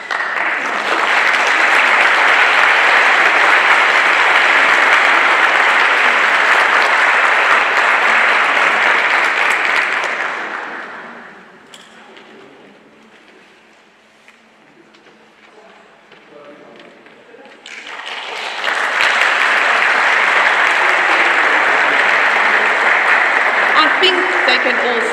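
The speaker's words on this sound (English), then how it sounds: "we can give them a big round of applause" Audience applause at a national music competition: a loud, dense wall of clapping for about ten seconds, dropping to quieter murmuring in the middle, then a second strong burst of clapping through to the end.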